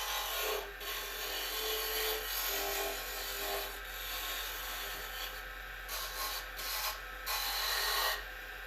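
A wood lathe spins a pen blank while a tool rubs and scrapes against the turning wood, a continuous close, raspy hiss with a low motor hum beneath and small irregular surges, no talking.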